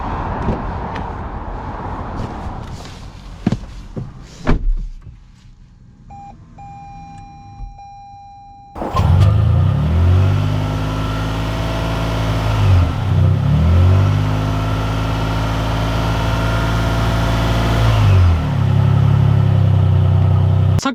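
A 2021 Lexus RX 450h hybrid SUV starts off after a few soft clicks and quiet beeps, then drives with a steady, loud engine and road drone, rising and falling through gear-like sweeps, with no talking.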